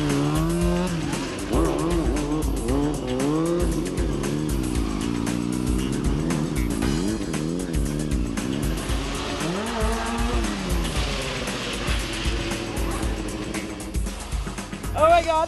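A motorcycle revs and races through a stunt ride, engine pitch rising and falling with tire squeal and skidding, loud and close, while voices talk over it.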